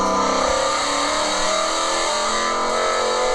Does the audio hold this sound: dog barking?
no